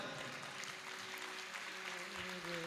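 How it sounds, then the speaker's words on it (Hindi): An audience claps at a Jain religious discourse, a steady wash of applause from a crowd that stays even and fairly faint throughout. "इतने ताली बजा रहे हैं"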